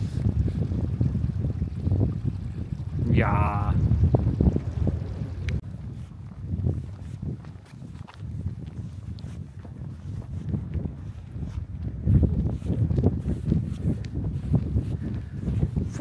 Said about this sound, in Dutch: Harde wind.